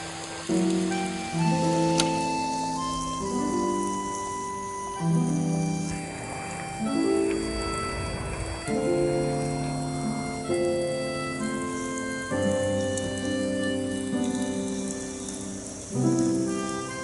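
Heavy rain hisses steadily across a surface in a constant wash, heard under sustained music with melodic tones that swell and shift throughout.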